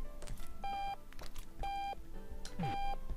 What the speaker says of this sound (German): Der Wecker, wo ist der Wecker?